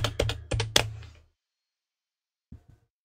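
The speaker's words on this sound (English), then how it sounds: "Typing." Typing on a computer keyboard during an online card game draft, a quick close burst of clicky keystrokes followed by a pause and then two soft final taps.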